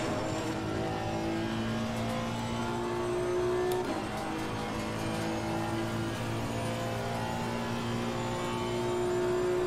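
Turbocharged race car accelerating on track in a racing game, a sustained droning engine tone with steady harmonics and a slight shift in pitch partway, loud and continuous without speech.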